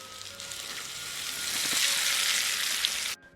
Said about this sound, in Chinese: 趁油热，赶紧浇在辣椒粉上面